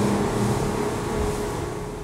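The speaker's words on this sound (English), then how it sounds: "To hear these two outboards." Twin outboard engines on a superRIB 30 Cabin boat running at speed, a steady loud drone with water and wind rush throughout, no voices.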